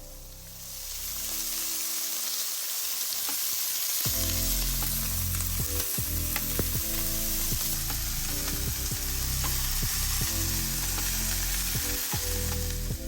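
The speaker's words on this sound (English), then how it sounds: "Now that the meat is seared on all sides" Steak sears in a very hot pan, a loud, dense sizzle that swells in after a quiet start and crackles steadily, with occasional stirring or scraping movements punctuating the spitting fat.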